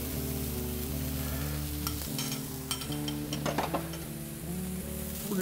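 Steaks and onions for a French onion Philly cheesesteak cook on a hot griddle or pan, giving a steady close sizzle throughout with a few scraping, stirring clinks partway through, and no talking.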